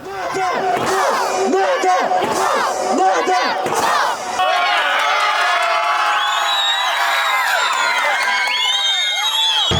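Football fans roar and chant in the stands at an Istaravshan versus Khosilot match in Tajikistan, a dense, loud crowd with rising shouts and whistles, the chanting giving way to sustained cheering.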